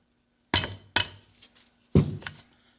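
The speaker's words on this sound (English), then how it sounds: "I'm just going to tap the fin right there to break it free" Metal tapping on the fin of a Johnson 9.5 HP outboard lower unit to break it free: three sharp, ringing clinks, two close together and one a second later, each with a brief metallic ring.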